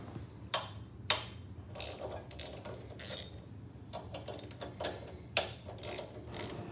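Pliers twist a rubber fuel hose back and forth to break it loose on a snow thrower, producing sharp, irregular clicks and ratcheting creaks, close up, with quiet pauses between.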